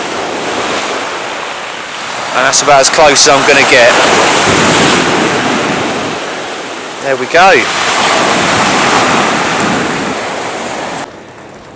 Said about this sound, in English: Here's the waves.